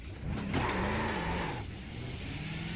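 A Supercars race car in the iRacing sim revs and pulls away, its engine note climbing and wavering as it accelerates, a steady mid-level drone with no talk.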